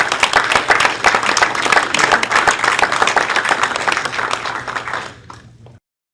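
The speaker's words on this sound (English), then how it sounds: "let's have a nice round of applause for the parents" Loud, sustained applause from a seated crowd at a scholarship banquet, a dense wash of many clapping hands that holds steady before thinning out and stopping abruptly near the end.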